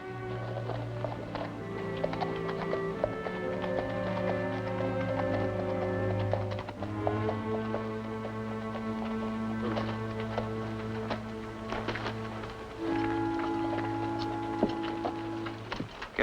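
Horse hooves clip-clop along a street in an old Western town, a faint, irregular tapping beneath a sustained orchestral music score that dominates the scene.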